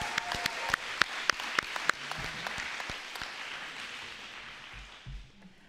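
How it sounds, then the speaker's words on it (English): A round of applause from a graduation audience, a few sharp individual claps at first, then a broad steady patter of clapping that thins out and fades toward the end. "Let's give our community a big round of applause."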